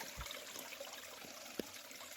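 A small waterfall in wooded, fern-lined terrain gives a steady soft rush of falling water, with a couple of brief splashes or knocks standing out close by.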